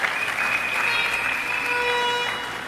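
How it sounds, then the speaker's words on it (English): Applause from an audience at a university candidates' presentation, a soft, steady patter of clapping heard from a distance, with a few faint tonal sounds in the background. "Give him a round of applause,"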